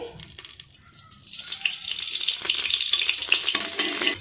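Oil in a pressure cooker heating and sizzling for a Sindhi-style tinda and potato curry, a steady bright frying hiss that swells and stays loud throughout, with no talk.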